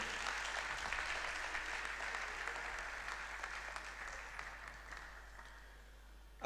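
Applause at a university convocation lecture ceremony, a broad, fairly distant wash of clapping that holds steady and slowly fades toward the end.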